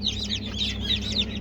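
Young yellow chicks peep steadily in a small group, high rapid chirps repeating in quick overlapping bursts, fairly close but soft, with no talking.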